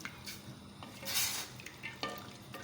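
Spoon stirring chana dal with turmeric and red chilli in a pot, a few faint scraping strokes over a soft sizzle, quiet and close.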